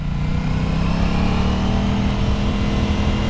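An Aprilia RS660 sport motorcycle engine accelerates with a loud, steady mid-pitched roar and a tone that rises gradually, close and continuous, with no talking.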